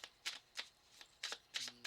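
Tarot cards are shuffled in short riffling bursts, about six quick papery flicks spaced irregularly, close and fairly quiet, with no voice over them.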